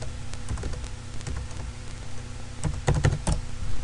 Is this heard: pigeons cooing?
no